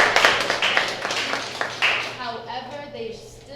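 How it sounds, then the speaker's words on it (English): Scattered clapping from attendees at a student government parliament meeting, a quick run of claps that fades out as a voice begins speaking. "so round of applause for Tristan Lacoste"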